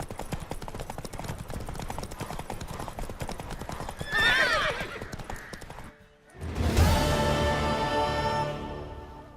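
A horse in The Witcher 3 clip-clops steadily at a gallop, its hooves drumming throughout, then gives a loud, close neigh and whinny partway through, with faint voices in the background.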